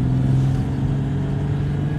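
A Citroën 2CV drives through a village on a winter outing, its steady low engine drone and harmonic hum running continuously at close range with no talk.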